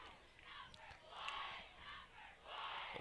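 A crowd and cheerleaders cheering at a junior high school football game, distant rising-and-falling waves of yelling and chanting with a few sharp shouts, fairly faint and open-air.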